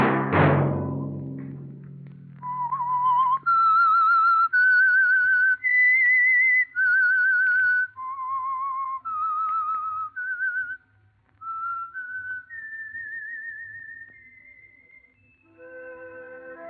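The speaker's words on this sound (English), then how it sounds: "Let that whistle be your signal for the Signal Oil program, The Whistler" A whistled theme melody signals the radio show The Whistler on the Signal Oil program. A loud low burst opens it, then a clear, sustained solo whistled tune of held and gliding notes carries on alone.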